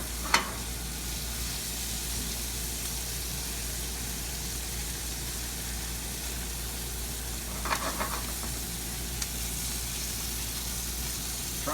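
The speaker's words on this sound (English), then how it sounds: "Try to brown these even on the bottom a little bit, so this way they get a lot of flavor off." Seasoned chicken pieces brown in a pan with a steady, even sizzle close by, broken by a couple of brief clinks and shifts as the pieces are moved.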